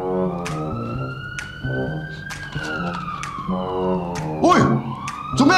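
An ambulance siren wails close and loud, its tone sliding up and down in long sweeps, with a few sharp knocks mixed in.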